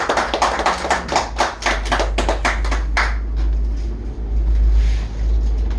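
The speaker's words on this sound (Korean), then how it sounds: "박수!" Lecture audience clapping at the start of a finance talk, a burst of fast overlapping hand claps for about three seconds that then fades into room noise and low hum.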